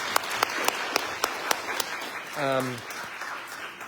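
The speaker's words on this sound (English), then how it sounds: "a really, legitimately huge round of applause to all of you" Audience clapping at a ten-year anniversary winter/spring season announcement: a handful of separate, sharp claps at an even pace, then a swell of clapping as a voice briefly speaks.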